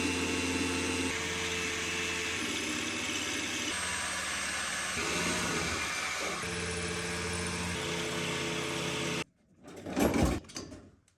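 A drill bit bores holes into a concrete slab poured outdoors in winter for an off-grid build, giving a loud, steady motor drone with grinding for about nine seconds before it cuts off and a brief rougher burst follows.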